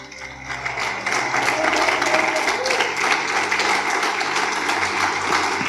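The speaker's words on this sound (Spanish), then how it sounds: "Si ese aplauso es para Él, dáselo mucho más fuerte" A church congregation applauds loudly and steadily, a thick roar of clapping that swells in after a quieter start and holds strong throughout.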